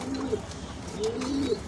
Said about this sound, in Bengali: দেখলাম তো, অনেক সুন্দর কবুতর।